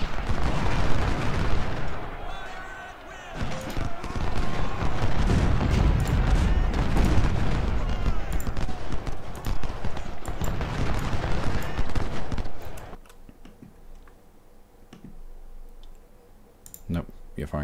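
Musket volleys and cannon fire from Ultimate General: Civil War crackle and thump densely for about thirteen seconds, a loud busy battle din, before dropping to sparse distant pops; speech is present alongside the gunfire.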